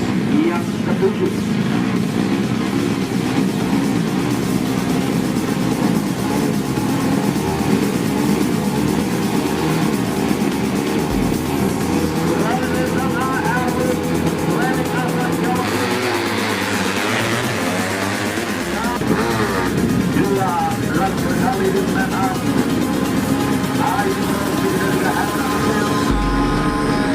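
Tuned 130cc bebek drag motorcycle engines racing on a drag strip, a continuous loud engine roar with rising and falling revs throughout, while a commentator talks over it.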